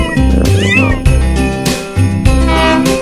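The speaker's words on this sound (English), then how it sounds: "kittens." Cartoon kittens meow repeatedly over a bouncy Christmas children's song, the high cute meows loud and close above steady bass and melody.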